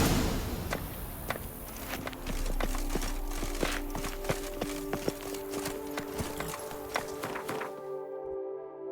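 Roach the horse trots in The Witcher 3, its hooves clip-clopping in a fast, steady rhythm with scattered thuds, close and clear, before the sound cuts off near the end.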